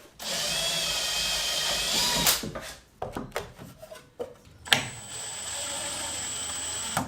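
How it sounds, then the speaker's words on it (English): A power drill whirs steadily through wood for about two seconds, stops, then a few short bursts follow before a longer high-pitched run at the end, close by. "that has left a mark in the back that I can drill through"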